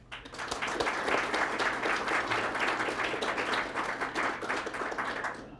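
Audience applause fills a lecture hall after a Federalist Society debate in Chicago, a steady dense wash of clapping hands that holds at an even level throughout with no voices on top.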